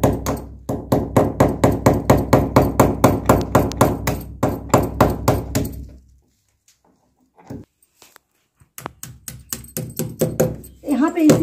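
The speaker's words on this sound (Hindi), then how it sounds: "यहां पे कहीं कहीं इसको हम बिरंजी को ठोक देंगे" Small nails are hammered in to fix tile paper to a wall, with a long run of quick, evenly spaced taps, then a pause and a few scattered knocks as a voice speaks over the work.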